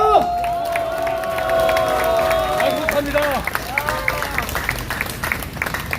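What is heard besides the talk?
rally crowd applause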